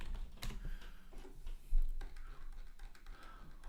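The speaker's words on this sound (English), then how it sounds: "This is the part where you hear me clicking madly, trying to get everything going." Rapid, irregular clicking of a computer keyboard and mouse, close and fairly loud, in quick bursts with no voice over it.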